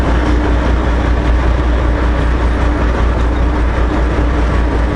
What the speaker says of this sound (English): Maybe I upshifted that half gear a little too early.